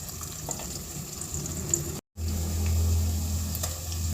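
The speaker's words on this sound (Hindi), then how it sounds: "प्याज ऐड कर देंगे, इसको हल्का सा लाइट ब्राउन करना है हमने।" Onions frying in a pan for a mixed vegetable pulao, a soft steady sizzle with faint crackles, briefly cut to silence midway before resuming alongside a low hum.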